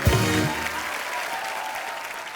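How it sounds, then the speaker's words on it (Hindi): A studio audience on a TV comedy show breaks into loud applause for a guest's entrance, an even, sustained roar of clapping that continues after a brief low voice at the very start. "आप सबकी जोरदार तालियों के बीच please welcome the very beautiful"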